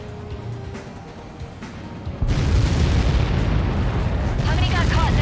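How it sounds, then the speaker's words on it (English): In the combat flight game Ace Combat 7: Skies Unknown, a projectile blast hits with a sudden heavy boom. Low rumbling roars on behind it, under faint radio chatter. "How many got caught in that explosion?"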